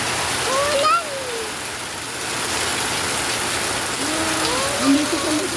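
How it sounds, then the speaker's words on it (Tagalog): Heavy rain pours steadily on surfaces in Metro Manila, a dense continuous hiss with a few faint whistling or squeaking tones over it and voices murmuring underneath. "Lakas ang ulan."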